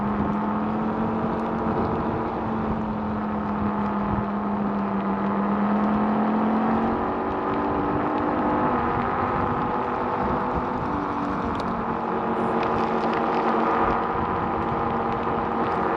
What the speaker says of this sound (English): I'm going to hop back on the scooter.